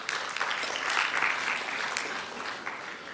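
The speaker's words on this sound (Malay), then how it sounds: "Jadi tepukan untuk MPP kita." A short round of applause from a small crowd at a university student dialogue session, clapping steadily for a few seconds before tapering off.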